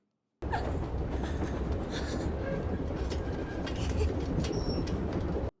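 A train rumbles loudly along the tracks with rattling wagons, clattering wheels and occasional metallic squeals, continuous and close, in the TV series Interview With The Vampire.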